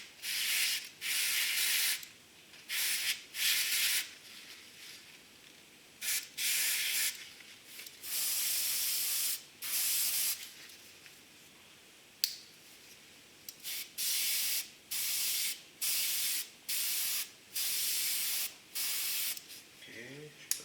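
Airbrush with a 0.2 mm needle spraying AK 3G primer in short, close hissing bursts of one to two seconds, separated by brief pauses, with no talk.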